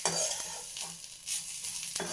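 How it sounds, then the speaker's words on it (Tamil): Ragi flour being dry-roasted without ghee in a kadai, stirred with steady scraping strokes and a faint sizzle, the close scrapes repeating every second or so. "அப்படியே பரட்டி எடுக்கலாம் கடாயில்"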